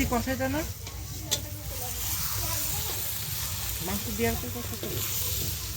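Meat being sautéed into a thick spiced curry in a large pot at an outdoor picnic, sizzling and hissing steadily while a spoon stirs it, with people chatting over the cooking.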